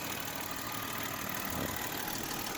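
A Kia Opirus sedan imported from the United States idles steadily with its bonnet open, giving a low, even hum that continues without change or speech.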